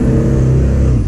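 A Ford 6.0 Powerstroke diesel truck with an upgraded turbo pulls under throttle, a loud, steady low engine drone held close by for about a second, with no voices.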